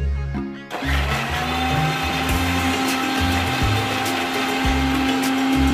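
After a brief pause, a mixer grinder starts up and crushes chopped apple for a layered milkshake, making a loud, close, continuous whirring motor drone with rhythmic chopping pulses running underneath.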